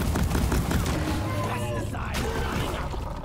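Lok-1 smart rifle fire in the co-op shooter Deep Rock Galactic, a dense, loud barrage of rapid gunshots and impacts mixed with explosions and chaotic game noise, with a voice talking over it.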